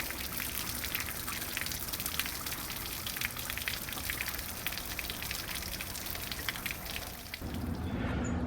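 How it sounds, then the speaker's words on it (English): Water drains from an RV water heater on a Forest River Geo Pro trailer being winterized, a steady rushing trickle and spatter that runs continuously at moderate level before shifting near the end. "the water heater is completely drained now"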